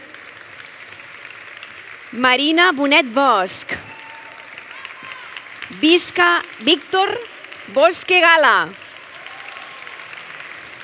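Applause at a university graduation ceremony, a steady hall of clapping running underneath as a presenter reads out graduates' names over a loudspeaker.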